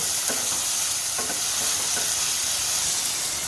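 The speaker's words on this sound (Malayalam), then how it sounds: "ഇനി ഇതിലേക്ക് നമ്മൾ വേവിച്ച് വെച്ചിട്ടുള്ള ചക്കക്കുരു ചേർത്ത് കൊടുക്കാം. നന്നായിട്ടൊന്ന് ഇളക്കി" Cooked jackfruit seeds stirred into a frying pan for Kerala-style olan with snake gourd, with a continuous sizzle and several spoon scrapes and clacks close by.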